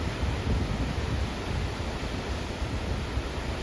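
Gullfoss, a two-tiered glacier-fed waterfall on a cold, fast river in Iceland, roars as a steady, loud, dense wash of water noise with no pauses and no voices.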